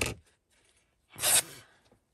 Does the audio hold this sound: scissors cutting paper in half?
yes